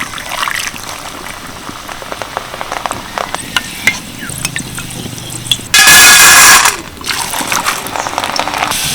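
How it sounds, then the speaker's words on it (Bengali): Handful of chana dal dropped into hot white oil in a wok, giving a sudden loud hissing sizzle that swells briefly and subsides into steady crackling frying, with lighter stirring clatter before it. "এক মুঠো করে নেব আর তেলের মধ্যে ছেড়ে দেবো"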